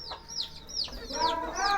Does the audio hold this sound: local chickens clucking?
yes